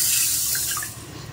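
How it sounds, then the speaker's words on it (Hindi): Water is poured into a pan of sugar to make syrup, a close, steady splashing rush that tapers off toward the end, with no talking. "इस पैन में चीनी को डाल देते हैं और ये जो रहा पानी"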